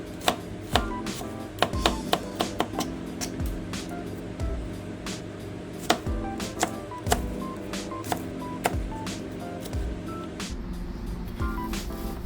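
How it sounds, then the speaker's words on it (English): Knife chopping vegetables for Southern fried cabbage on a cutting board, with a busy run of sharp, uneven taps, some in quick bursts, close and fairly loud over a low steady background hum. "I'll chop up the rest of this"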